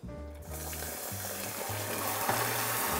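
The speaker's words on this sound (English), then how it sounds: "add in a quarter cup of water" Water poured into hot amber caramel in a pan, hissing and bubbling steadily for a few seconds, close up and with no talking.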